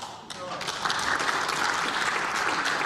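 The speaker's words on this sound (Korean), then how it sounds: "의원석에서 박수가 나옵니다" Sustained applause rises from the members' seats of the National Assembly during a plenary party leader's address, a dense, steady wash of clapping that swells after a brief softer start.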